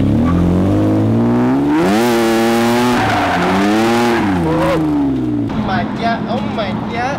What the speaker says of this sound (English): Hey, do you hear that? The blow off valve is like.